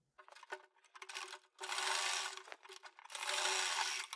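A sewing machine stitches buckram onto a collared kurti in two sustained, steady bursts of fine mechanical whirring, close by and fairly quiet, with a few short starts and stops in between.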